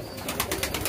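Domestic pigeons coo close by in a quick series of soft, throaty pulses, with no talking.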